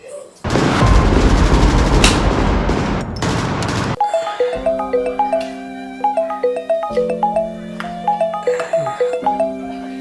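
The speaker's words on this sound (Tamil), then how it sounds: "பட்டாசு இனிமே தான் வெடிக்க போகுது." Firecrackers burst in a dense, rapid crackling volley for a few seconds, loud and close, before giving way to rhythmic music.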